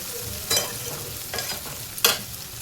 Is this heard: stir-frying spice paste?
yes